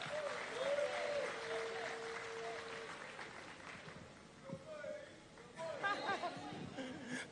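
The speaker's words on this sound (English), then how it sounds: "Let's welcome him with a round of applause." An audience applauds to welcome Joshua Opey, chairperson of the Commonwealth Youth Council, with fairly quiet clapping mixed with chatter, some laughter and scattered voices nearby, swelling briefly near the end.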